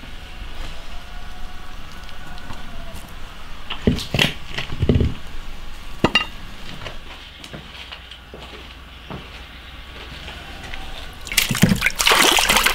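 Water splashing and trickling as pork ribs are rinsed in a kitchen, with intermittent close splashes and a louder burst of running water at the end.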